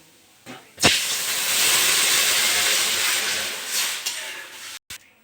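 Sharp clatter, then a loud burst of hissing sizzle as water hits hot oil with fried lentils, holding steady for several seconds before a few knocks and cutting off.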